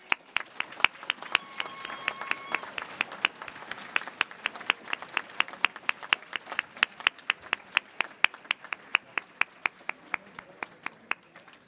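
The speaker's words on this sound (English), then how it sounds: "can we give them a big round of applause" Audience applause at a college graduation ceremony, a rhythmic, fairly sparse clapping that continues steadily throughout, with a faint murmur of crowd underneath.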